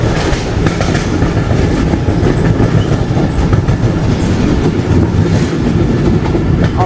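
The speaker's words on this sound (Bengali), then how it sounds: "ট্রেন পার করছে বেজরডাঙ্গা স্টেশন।" A passenger train in Bangladesh runs along the rails past Bejerdanga station, its steady loud rumble and rhythmic clickety-clack of wheels on the track filling the whole stretch with no talk.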